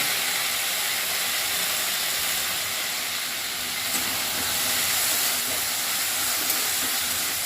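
Boiled potatoes sizzle in a spoonful of hot ghee with asafoetida in a pan, a loud, steady broadband hiss that runs unbroken and close, with a few faint ticks and no speech.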